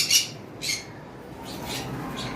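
Dotted pied pet birds squawk at a bird sale: two sharp, loud squawks close together, then several fainter, rougher calls trailing off, with no talking.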